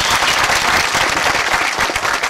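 A crowd of listeners claps at a devotional kirtan, a loud, dense and continuous round of applause close by, with no voices over it.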